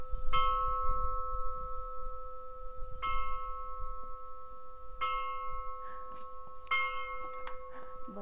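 A bell at an old farm in ruins rings four separate clear strokes a few seconds apart, each ringing out and decaying over a faint low background rumble.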